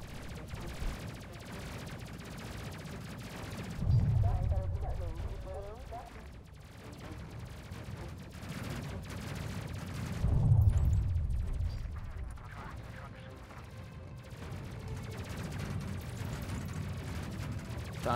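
Spaceship weapons firing in the Space Crew video game, bursts of rapid blasts with two heavier booming swells, mixed under ongoing talk from players.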